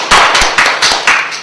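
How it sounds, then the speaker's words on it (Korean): A few loud, close claps from a small group of lecture attendees, coming in three or four quick bursts with brief gaps between them. "박수"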